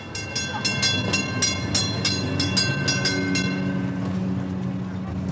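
A tram runs along Pera Street in Istanbul, its wheels rumbling with a regular rhythmic clicking over the rails, loud and close, then settling into a steady rolling drone.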